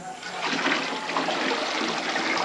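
Water pours into a home beer-brewing kettle in a continuous, even splashing rush, with no talk over the pour.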